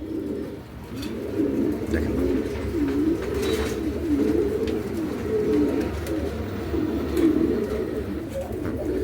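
Pigeons, a pair offered for sale, coo in a steady rolling rhythm of soft repeated calls, close and continuous, with someone briefly speaking over them.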